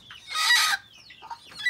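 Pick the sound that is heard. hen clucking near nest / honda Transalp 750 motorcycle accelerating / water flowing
hen clucking near nest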